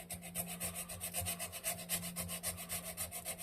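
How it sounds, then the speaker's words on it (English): 80 grit sandpaper rubbed by hand across an area of a Wisconsin Model AB engine, a quick steady back-and-forth scratching rhythm, close and fairly quiet, no talk. "scratch up that area so we can get good adhesion with some epoxy. Using some 80 grit?"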